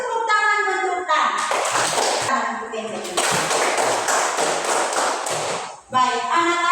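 Children clap their hands in quick rhythmic bursts during a classroom clapping game, the claps alternating with their chanting voices, close and loud.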